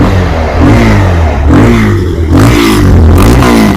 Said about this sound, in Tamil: வண்டி நான் ஸ்டார்ட் பண்ணி காட்டுறேன் பாருங்க.